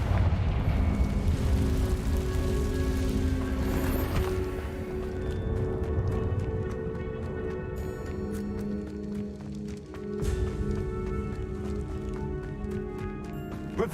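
Confringo blasting spell going off in a Harry Potter video game, set inside a cave: a loud, rumbling blast at the start that fades into sustained tonal game music and scattered crackles.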